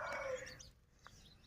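A chicken in a rural Lao farmyard gives a short, faint call near the start, followed by a brief chirp and then quiet outdoor background.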